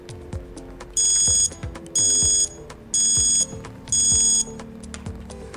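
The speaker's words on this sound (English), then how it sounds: "It's preset to ring as soon as you unplug your device." A Charger Leash alarm rings as the device is unplugged: four loud, bright electronic trills, each about half a second long and spaced a second apart, over soft clicking mechanical noises.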